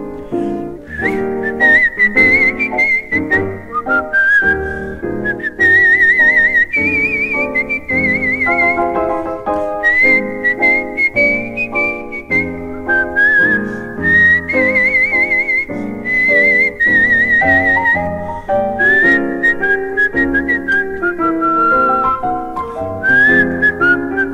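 A man whistles a melodic tune continuously, clear and close, with a musical accompaniment underneath.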